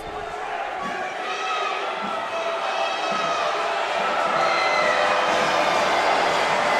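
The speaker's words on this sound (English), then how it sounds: "Crowd does everything they can, but Vasquez hits the first." A college basketball arena crowd roars and jeers through a men's game free throw, a dense, sustained wall of cheering and shouting that builds slightly toward the end, with a commentator talking over it.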